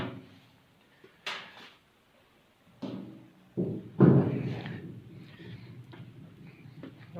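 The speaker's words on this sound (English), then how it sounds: "let me get the tank out of the way" An aircraft fuel tank being moved aside on a workbench produces a few separate hollow thumps, knocks and scrapes spaced over several seconds, close and moderately loud, with quiet gaps between.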